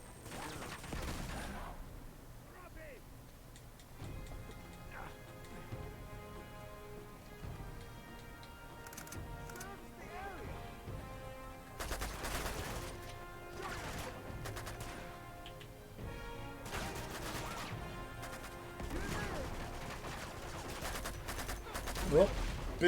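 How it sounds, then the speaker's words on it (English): In the video game Uncharted 2: Among Thieves, grenade explosions and gunfire crackle in repeated bursts and heavy blasts over a busy background of game sound, with sharp shots clustering in several volleys. "that's a grenade at my feet"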